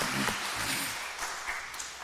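A church congregation at a Sunday Methodist service applauds to encourage the women's mission group, a dense and fairly loud wash of clapping throughout with no voices.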